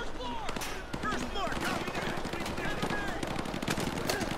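Rapid bursts of automatic gunfire crackle in the Modern Warfare 2 Campaign Remastered Exodus mission on Veteran difficulty, a dense, close volley of shots throughout the short stretch.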